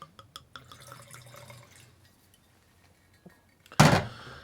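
Rosé wine is poured into a glass: a few soft drips and light clinks, then a quiet pause, then a short, sharp splash of liquid filling the glass near the end. No one speaks.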